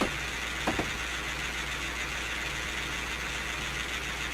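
Small train engine running in the Train Simulator 2016 game on a forest mainline: a steady, low mechanical drone with a constant hum, a couple of faint clicks early on, no voices.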